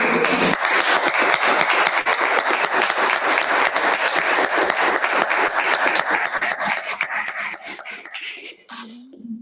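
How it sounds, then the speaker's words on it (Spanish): Sustained audience applause closing a university science faculty talk, loud and continuous before thinning out and fading at the end, where a brief voice is heard. "Un aplauso."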